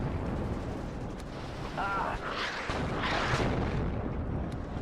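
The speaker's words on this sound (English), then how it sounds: "Artillery rounds are going out." Artillery fire in the real-time strategy game WARNO: a dull, rumbling boom and explosive roar that swells over a steady noisy battle bed, with a few sharper bursts and some background game chatter.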